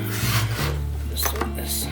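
A knife saws through a homemade pizza topped with homemade mozzarella, making close, rough rasping scrapes in three short bursts over a steady low background hum.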